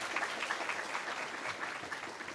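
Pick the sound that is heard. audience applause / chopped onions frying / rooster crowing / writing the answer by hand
audience applause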